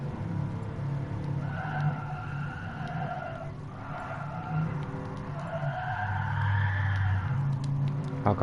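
Race car in Gran Turismo Sport skidding after a wrong gear change: a steady engine drone with long, wavering tire squeals that rise and fall over several seconds, no voices.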